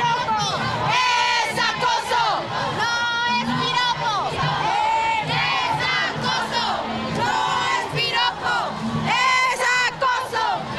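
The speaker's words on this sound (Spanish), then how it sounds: "Bajo este grito como bandera, entre las consignas para exigir respeto a la mujer" A large crowd of women marches for International Women's Day, voices chanting and shouting slogans together in a loud, continuous, overlapping roar with rhythmic surges.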